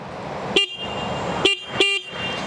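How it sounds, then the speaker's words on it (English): A Honda CB200X motorcycle horn sounds three short, loud, high-pitched honks, the second and third close together, over a steady low background hum. "So horn check for the CB200X."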